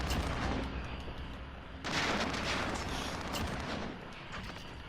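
Gunfire in a Call of Duty match, a dense stretch of rapid shots and rumbling blasts that stays loud and continuous, with a sharper surge of firing about two seconds in.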